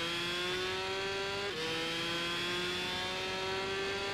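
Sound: video game racing motorcycle engine

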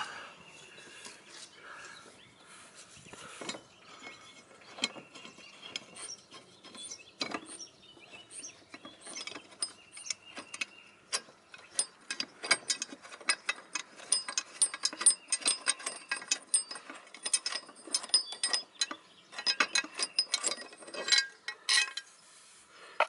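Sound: removing a blade with a ratchet tool

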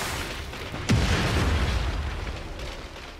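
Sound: car exploding in the video game Just Cause 3

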